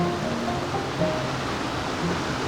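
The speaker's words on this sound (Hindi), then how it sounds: "ये पानी कुछ इन पत्थरों के बीच से आ रहा है" River water rushing steadily between stones beneath a small bridge in Cherrapunji, a continuous close hiss of flow with no breaks and no voices.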